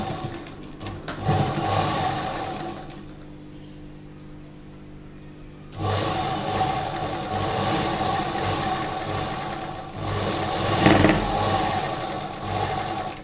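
An electric sewing machine stitches a slip, its motor whirring in steady close runs. It pauses for a quieter stretch, then stitches again with a brief louder surge near the end.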